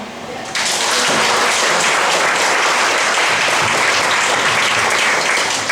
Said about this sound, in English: At this point, I think we could applaud.